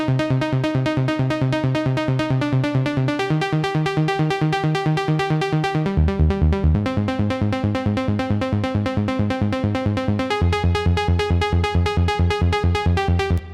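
Synth lead programmed in Ableton, a bright, rhythmic chord-stab pattern repeating steadily with shifting notes, loud and upfront with nothing else heard.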